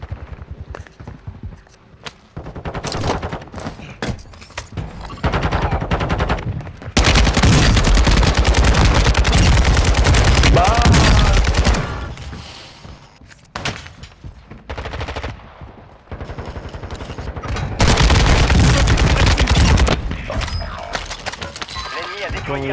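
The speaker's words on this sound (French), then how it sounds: "Putain, je vais vider mon chargeur dans la gueule, le mec" Bursts of automatic gunfire in Call of Duty Modern Warfare II, loud rapid firing in repeated stretches with pauses between, over dense game noise, with a voice talking at times.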